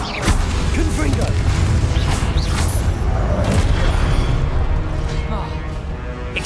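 Confringo blasting spell explosions in the Hogwarts Legacy video game, with repeated crashing blasts and booming impacts over a noisy battle bed, and in-game voices calling out between hits.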